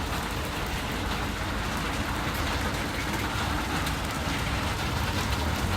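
Steady rain falls without a break, a dense, even hiss of drops on surfaces that stays constant and fairly loud throughout, with no voices.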